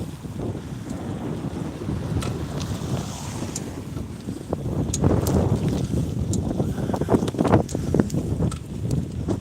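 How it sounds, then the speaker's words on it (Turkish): Strong wind buffets the microphone in a continuous, gusty roar on a boat trip back near Şarköy, swelling louder midway, with splashes of water and scattered knocks of the boat. "Arkadaşlar dönüşte rüzgar var"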